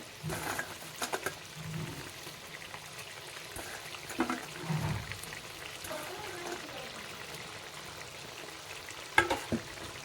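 Fried tangra fish goes into a boiling gravy, giving a bubbling, hissing simmer with soft liquid splashes and a few scraping clicks from a spoon against the pan, moderately close and steady throughout.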